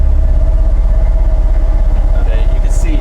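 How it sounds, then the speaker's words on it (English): A 34-foot organ pipe sounding low C gives a very deep, loud, fluttering rumble with a steady rapid pulsing beat that continues unbroken from start to finish. "This is the sound of low C."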